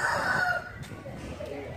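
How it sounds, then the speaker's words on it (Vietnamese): Fighting roosters beside a temple by the Long Hựu river in Cần Đước, Vietnam, crow loudly near the mic in a single rising call during the first half second, followed by softer clucking and murmuring over steady outdoor background noise. "Đây là mấy con gà đá"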